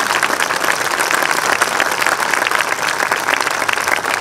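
An audience applauds a bersaglieri fanfare band at a concert, with dense, continuous clapping that stays loud and even from start to finish, and no voices stand out.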